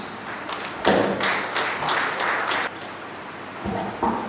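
Applause at a bar association's opening ceremony, with bursts of clapping from an audience in a hall rising and falling over several seconds.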